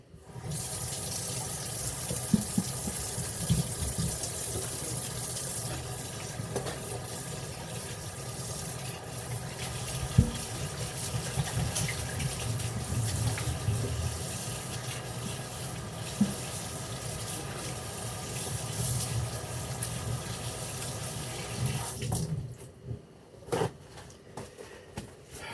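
Tap water running steadily into a sink while hands are washed, a continuous close gushing stream that cuts off near the end.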